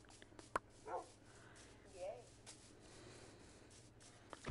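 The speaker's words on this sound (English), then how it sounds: "Also, there's a dog down here," Dog barking in a Minecraft video game, a couple of short yelping barks spaced apart, fairly quiet beneath a low background hum.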